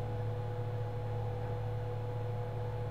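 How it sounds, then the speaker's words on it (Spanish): Steady electronic whir of a PlayStation console's cooling fan, a constant low hum with a faint tonal whine, running alone at moderate level for the whole stretch. "¿Escucháis el ventilador de la Play?"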